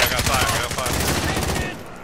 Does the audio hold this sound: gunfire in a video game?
yes